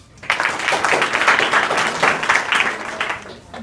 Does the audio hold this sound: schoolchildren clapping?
yes